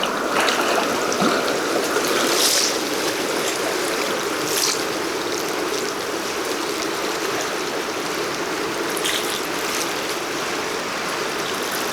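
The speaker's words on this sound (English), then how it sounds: "River water." The Deschutes River in Oregon flows in a constant rushing wash of water, close and steady for the whole stretch with no voices.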